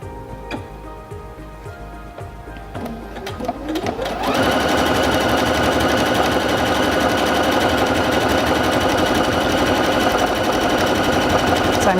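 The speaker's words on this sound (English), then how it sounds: "When you're sewing a stitch and you want to stop, you can press this button and it will pause, tie off the stitch, and stop sewing." A Singer Featherweight C240 sewing machine sews stitch 53 and ties off, starting with slow irregular needle clicks that build into a fast, steady, loud mechanical whir.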